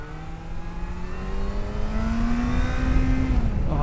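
A Yamaha FZ6 motorcycle accelerating hard, its engine note climbing steadily in pitch and growing louder for a few seconds, heard close and alone without talk.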